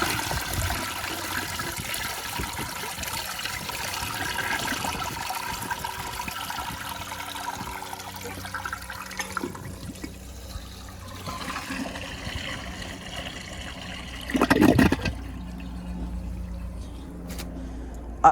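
An American Standard Space Saver Cadet toilet flushes with a loud, steady rush of water that gradually thins into trickling refill, closely recorded, with a brief louder splash near the end.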